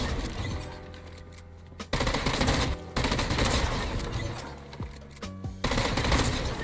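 Rapid automatic gunfire from the Fortnite video game, long bursts of shots broken by a few short pauses, loud and close throughout.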